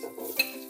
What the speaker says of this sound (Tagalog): Sa ating pressure cooker ay igigisa muna natin ang ating bawang,